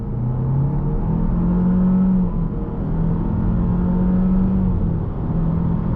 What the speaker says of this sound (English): You can floor it all you want. All you're gonna hear is this really annoying noise from the engine.